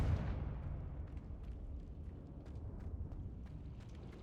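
Confringo blasting spell explosion in the video game Hogwarts Legacy, a low rumbling blast that fades into a sustained crackling roar with faint debris pops.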